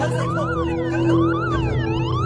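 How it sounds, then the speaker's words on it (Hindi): Ambulance siren wailing loudly and steadily, its rising and falling sweeps repeating over a continuous engine drone, close and alone. "एम्बुलेंस उसके लिए आ चुकी थी।"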